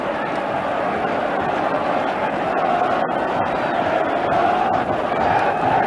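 Scotland supporters in a stadium crowd at a Euro 1988 qualifier football match against Ireland, a broad sustained roar of chanting voices rising and swelling, loud and continuous.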